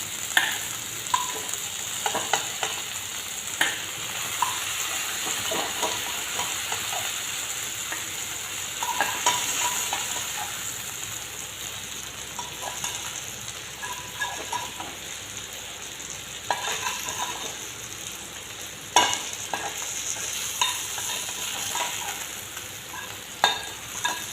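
Baim eel fish frying in a pan makes a continuous close sizzle, with repeated scraping and stirring clatter from the spatula and no voices.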